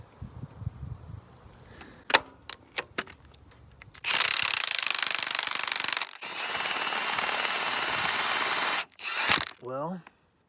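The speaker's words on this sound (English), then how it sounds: "let's see if we can get this bolt off here" A wrench works at a bolt on a 1958 Dodge Power Wagon V8 truck, producing a run of sharp ratcheting clicks followed by long, loud grinding mechanical passages and a few final clanks, close by.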